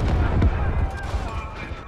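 Demolition charge detonating in Call of Duty: Modern Warfare, a loud low boom with rumbling debris that fades over a couple of seconds, with no speech over it.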